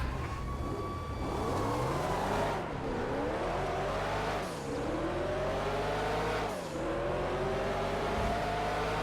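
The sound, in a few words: race car engine in video game GTA FiveM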